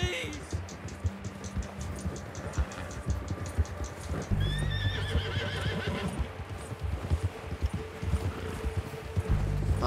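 A horse in Red Dead Redemption 2 neighs and whinnies while its hooves clip-clop in a steady galloping rhythm, loud and close, with game sounds layered around it.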